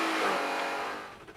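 An Audi R8 with a custom exhaust, valves closed, runs in a short loud burst of engine sound that fades slightly toward the end, with no voices.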